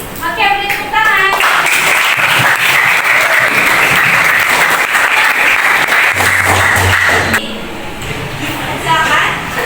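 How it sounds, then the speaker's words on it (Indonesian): Applause in a classroom during a microteaching session for a school guidance and counseling lesson, a dense burst of clapping that swells quickly, holds steady, then fades, with a voice and brief talk before and after. "beri tepuk tangan."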